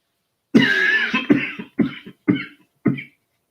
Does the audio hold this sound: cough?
yes